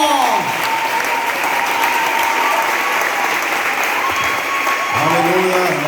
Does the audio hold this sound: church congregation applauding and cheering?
yes